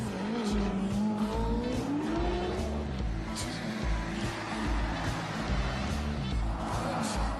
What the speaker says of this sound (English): very rich young men race very expensive fast cars in a battle to win over the admiring hangers-on